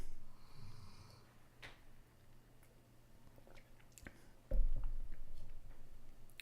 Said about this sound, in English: I want y'all to let me know if you can hear my dog snoring